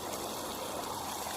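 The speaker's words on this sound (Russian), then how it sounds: "Мини-водопад." Water from a small stream or mini waterfall in Bali splashes and babbles in a steady, close rush, with no voices.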